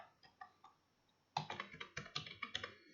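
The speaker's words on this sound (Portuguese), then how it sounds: "se eu digitar o meu e-mail pessoal aqui" An email address is typed on a computer keyboard: a few sparse key taps, a pause, then a quicker burst of crisp, close clicks in an otherwise quiet room.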